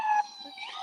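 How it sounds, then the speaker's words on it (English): A police siren wails on a Washington DC street, a brief, moderately distant tonal sweep rising and falling with no other sounds over it. "you can hear the sirens"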